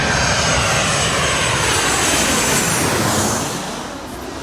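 A large airliner roars loud and close as it passes low overhead on landing approach near Baunia, Uttara in Dhaka, a broad continuous rush of jet engine noise that fades slightly at the end.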